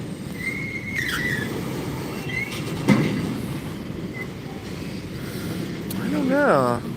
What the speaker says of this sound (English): He's just pushing that train back.